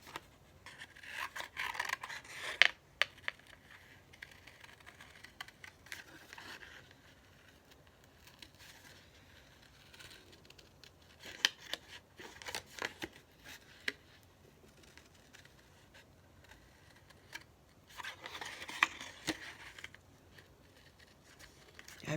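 Scissors snipping through paper to cut out a snowman shape, quiet close crisp snips arriving in short clusters separated by near-silent pauses, with no talking.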